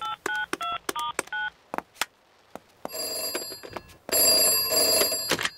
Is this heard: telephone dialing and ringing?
yes